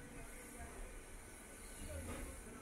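The Medinipur local passenger train runs from Howrah toward Khirai, giving a steady rolling rumble and hiss heard from on board. A faint murmur of voices sits under the noise.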